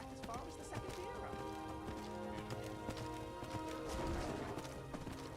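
Hooves of a horse ridden through Skyrim VR beat in a steady, rhythmic clip-clop, with game ambience and music underneath and a speaking voice over them.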